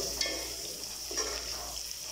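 Sweet and sour fish (maya maya and talakitok) sautéing in a pan gives a faint, steady sizzle with a couple of small stirring clicks, heard alone.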